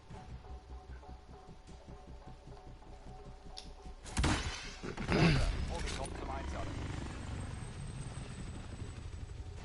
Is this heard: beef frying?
no